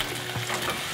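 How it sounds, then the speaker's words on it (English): Fresh crab pieces pre-frying in hot oil in a pan aboard a boat, giving a steady, close, loud sizzle and crackle with no talk over it. "we'll cook the crabs up, like just pre-fry them a little bit, just to get them hot and cook through the meat"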